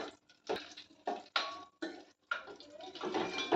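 Dry fruits roasted in a pan for semiya kheer, with bursts of stirring, scraping and rattling against the pan in uneven strokes, close and moderately quiet.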